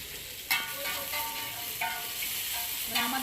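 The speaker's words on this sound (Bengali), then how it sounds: "তেল দিচ্ছি, পেঁয়াজ আর লঙ্কা, এটা আমাদের চিকেনের জন্য।" Onion and chili frying in hot oil for a chicken roll filling, a steady soft sizzle with a few brief crackling pops and stirring sounds, fairly quiet and close.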